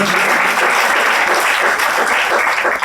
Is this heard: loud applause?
yes